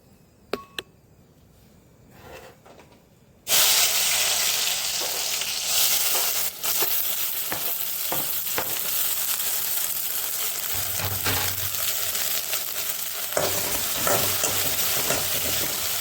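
Chopped okra drops into a hot kadai and sizzles loudly at medium flame, a sudden burst of frying that stays steady, with occasional stirring and clinks.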